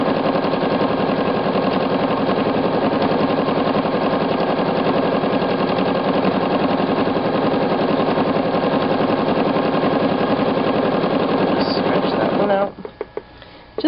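A quilting machine stitches a feather pattern with a rapid, steady needle chatter that runs loud and close for most of the stretch, then stops near the end. A voice talks faintly beneath the stitching.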